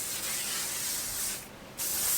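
Masterpiece Massive Shine Stronghold hairspray hisses steadily from an aerosol can onto hair at close range, one long continuous spray with a short pause near the end before it resumes.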